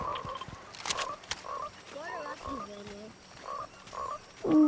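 Frogs croaking in the Fortnite video game, a string of loud, close, rubbery croaks and warbling calls that repeat over a few seconds with little talk.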